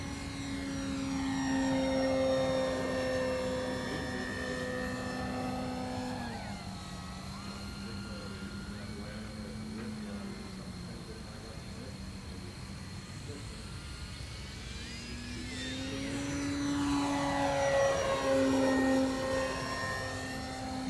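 An FMS Ranger 1800mm RC model plane drones overhead through full-deflection aileron rolls, its electric motor whine rising and falling in pitch as it passes, loud at the start and end and fading in between.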